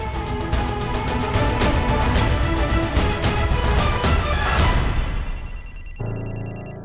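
A telephone rings in a domestic TV drama scene, a rapid trilling bell repeating for several seconds before it cuts off, followed by a brief electronic tone, with no voices.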